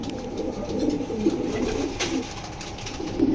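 Red checker pigeons cooing softly in a low, rolling murmur that repeats through a steady background hum, fairly close and with no talking.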